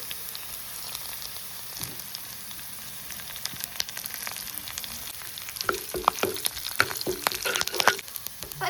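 Curry leaves dropped into hot oil with dried red chillies for kadala curry give a steady close sizzle, with sharper crackling pops and spoon clinks growing busier toward the end.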